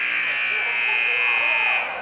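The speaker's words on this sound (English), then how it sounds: "Latour getting it off just in time as the buzzer sounded" A loud, sustained electronic buzzer blares in a high school gym to end a varsity boys' basketball quarter, a steady harsh tone for nearly two seconds before cutting off.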